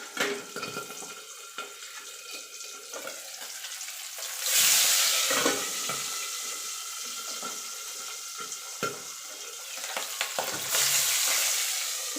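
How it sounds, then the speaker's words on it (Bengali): Pabda fish pieces fry in oil in a covered kadai, turned over until red, a continuous crackling sizzle that swells loudly at times, with a few knocks of the spatula. "এপিট ওপিট করে লাল লাল করে ভেজে নেব"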